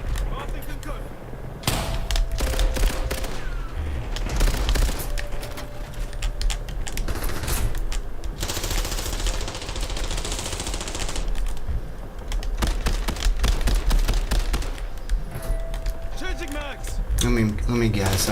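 Gunfire in the video game Call of Duty Black Ops 7 Zombies, rapid automatic bursts and repeated shots crackling loudly across the whole stretch, with a player talking over the shooting.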